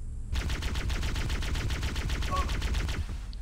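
Rapid automatic weapon fire from a faster plasma rifle in the video game Halo CE, a steady stream of evenly spaced loud shots lasting about three seconds, close and alone.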